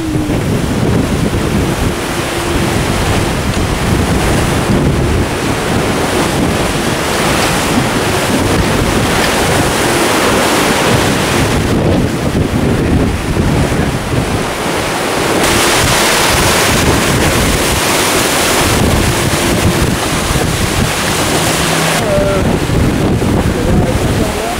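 The racing sailboat Safran-Guy Cotten surfs fast through ocean waves during the Transat AG2R La Mondiale, with loud continuous rushing water and heavy wind buffeting close by, swelling and easing in surges.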